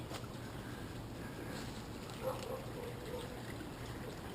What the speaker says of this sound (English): It's our little waterfall.